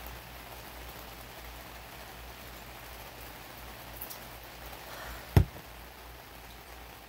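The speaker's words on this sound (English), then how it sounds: "some rain out here" Rain falls steadily outdoors as a soft, even hiss with scattered drips, holding through the whole stretch, broken once by a single sharp knock near the end.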